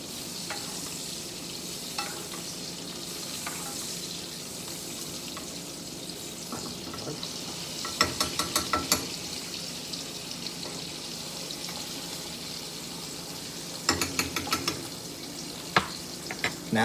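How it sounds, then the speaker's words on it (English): Pork chops fry in a pan with a constant close sizzle while pan juices are spooned over them, bringing bursts of clinking and scraping spoon strokes in short runs, with no talking. "I'm just gonna put about a spoonful of the good juice back on to each one about 10 times"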